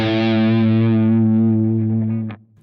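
Distorted electric guitar lick drawn from the blues scale. A single sustained, effects-laden phrase rings loud and close, then cuts off abruptly near the end.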